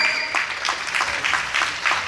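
Audience clapping at a cricket trophy presentation ceremony, a steady patter of many hands over about two seconds at moderate loudness, with no clear talk.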